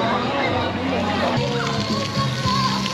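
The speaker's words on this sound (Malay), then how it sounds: "Budak suka main air, tengok dia orang tu." Children play and splash in water in Phnom Penh, Cambodia, with steady sloshing and watery churning beneath nearly continuous nearby adult talk.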